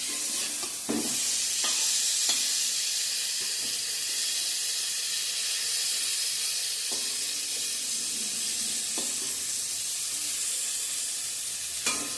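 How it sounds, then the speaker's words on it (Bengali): Pointed gourd (potol) slices frying in a pan give off a steady, close sizzle and hiss, with occasional stirring scrapes and knocks from a utensil, with no talking. "এখন পটল ভাজাটা করে নিচ্ছি।"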